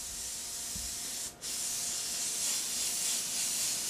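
An airbrush sprays paint onto a black shirt with a continuous, close, breathy hiss that dips briefly once, then resumes steadily.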